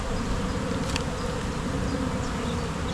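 Bees buzz constantly at an open beehive during an inspection while brambles and rosebay are in nectar flow, a dense, steady drone close to the microphone with no voices.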